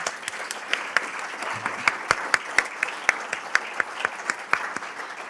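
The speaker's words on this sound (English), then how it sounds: "I want you to give a round of applause to the families that are here" An audience at an alumni awards ceremony gives a round of applause for the families present, sparse and fairly close, with distinct individual claps standing out in a loose rhythm over a softer bed of clapping.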